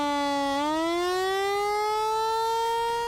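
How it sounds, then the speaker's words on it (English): The Alert Carolina university warning siren wails loudly and steadily, its tone dipping briefly then rising and holding high, with nothing else heard. "That's the sound of the Alert Carolina siren"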